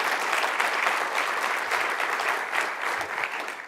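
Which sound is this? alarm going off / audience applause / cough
audience applause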